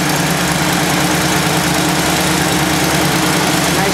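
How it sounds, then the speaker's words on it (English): The Ford 400 engine of a 1957 Ford F100 pickup truck idles steadily, giving a loud, continuous low rumble with an even, unbroken drone close by and no talking. "Yep, runs beautifully. To a nice idle right now."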